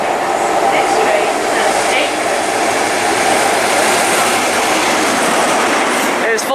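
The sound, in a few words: Class 43 HST train arriving at Reading station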